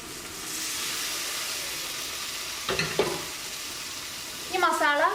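Cooked tapioca (kappa) and cooked beef sizzling steadily in a hot pan, with a few brief scraping stirs partway through and a louder burst of frying toward the end; no talking.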